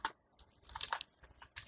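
Quiet, irregular clicking of keys on a computer keyboard while coding, a few quick taps in short bursts close to the microphone, with no talk.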